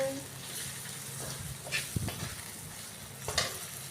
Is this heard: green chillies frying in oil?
yes